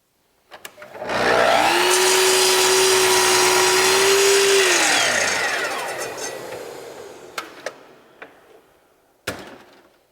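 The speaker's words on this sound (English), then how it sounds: "I'll go ahead and cut the other 8/4 rails that I need" A power saw cuts 8/4 wooden rails for a king-size bed, with a loud motor spin-up, a sustained whine through the cut, a slow wind-down, and then a few knocks and clunks of wood being handled.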